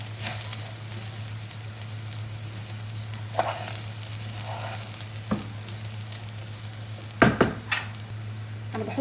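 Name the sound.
rice being stirred in oil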